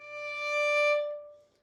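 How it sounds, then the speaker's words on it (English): A violin sounds a single sustained D natural, bowed steadily with a rich, bright tone that swells and then fades out. The note is heard alone, close and clear, with no talk over it. "So a regular D natural sounds like this."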